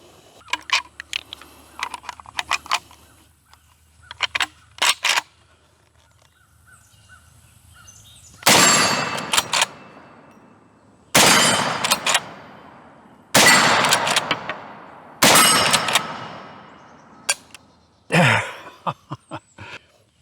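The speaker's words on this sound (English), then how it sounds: "Let's put 4 rounds on steel." Four loud, sharp rifle reports from a Ruger lever-action ring out on steel targets, spaced a couple of seconds apart with a clang after each, following quieter clicks and handling noise at an outdoor range.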